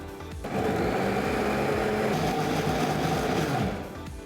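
A mixer grinder runs loud and steady grinding soaked lentils into thick batter, starting up after a brief pause and whirring continuously with a coarse grinding texture before winding down.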